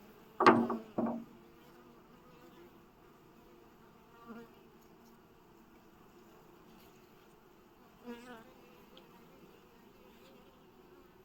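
Faint, steady low buzzing of many honeybees at an open hive throughout, with a few brief louder knocks and rustles near the start and later on.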